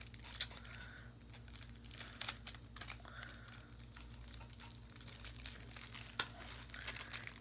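A plastic bag crinkles in short, quiet bursts while an enamel pin is packed back into it, with scattered crackles and a couple of sharper snaps against a faint background hum.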